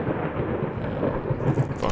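Low, rumbling thunder rolls through the horror video game Layers of Fear, a deep, continuous murmur at moderate loudness with no voices over it.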